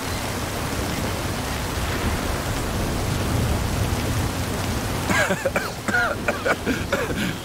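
Steady rain storm in the racing game Forza Horizon 5, a dense, even hiss of rainfall filling the scene, joined near the end by a voice speaking over it.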